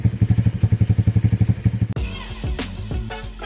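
A Lifan KP Mini 223 motorcycle with a 165FMM engine and high-mount exhaust idles in a steady, thumping beat, then pulls away with a clattering rev and gear noise as it rides off nearby.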